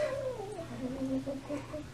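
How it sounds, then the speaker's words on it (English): A tailless Manx cat growls and grumbles close by in a long wavering, whiny drawl that rises and falls for the whole stretch, with no talk over it. "She sounds really grumpy, but I promise she's not really a mean cat."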